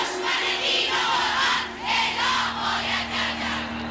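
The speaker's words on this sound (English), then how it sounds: "The streets of Tehran this morning were filled with crowds taking up the cry for Salman Rushdie's life." A large crowd in the streets of Tehran chanting and shouting for Salman Rushdie's death, a dense, loud, rhythmic roar of many voices in sustained waves.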